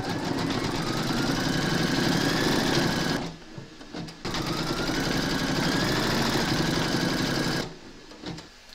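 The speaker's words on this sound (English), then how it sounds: "Load an appropriate thread colour into your machine, then stitch round number 8 to secure it." An embroidery machine stitching appliqué pockets in the hoop, running in a loud, steady mechanical buzz that stops twice briefly before resuming.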